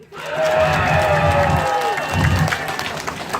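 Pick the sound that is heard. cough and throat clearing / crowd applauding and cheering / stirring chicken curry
crowd applauding and cheering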